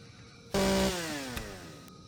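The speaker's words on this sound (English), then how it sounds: "Got my chainsaw. Chop down this tree so I can keep on moving forward." A chainsaw in a video game revs up suddenly and cuts down a tree. It gives a loud, sustained buzzing whine whose pitch slowly falls, with a brief knock partway through and no speech.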